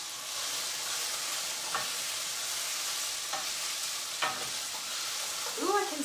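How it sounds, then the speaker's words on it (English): Sausage pasta being stirred in a frying pan, with a steady sizzle and hiss under a few scraping strokes of the spoon against the pan, close and fairly loud, no talking. "Give it a good stir."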